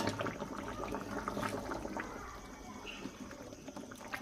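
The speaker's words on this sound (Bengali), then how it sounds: "এই যে লাল চিকেন রান্না হচ্ছে" Red chicken curry bubbles and sizzles in a pot, a close, steady wet simmer with irregular pops and spatters and no voices.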